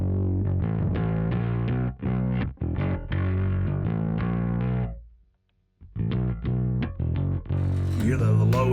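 A distorted bass guitar overdriven through an old Digitech drive pedal plays thick low riffs, pausing briefly midway before resuming, with a faint voice near the end.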